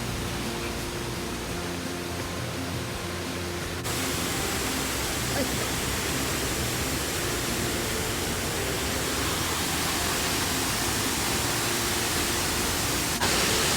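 Roaring waterfall in Laos, a dense continuous rush of falling water that fills the whole clip and grows fuller partway through, loud and close with no other sounds standing out.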